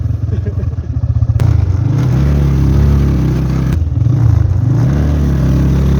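A motorbike engine labours on a steep, slippery mountain path, a loud close chugging idle that revs up twice with rising pitch, with people talking over it.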